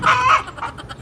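A chicken clucks loudly and close by in a rural Philippine yard, with a few quick, choppy clucks in one short burst.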